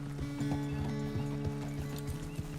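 Horse hooves clip-clop at a steady walking rhythm in the Red Dead Redemption 2 video game, crisp regular beats over a low humming musical drone, with no talk.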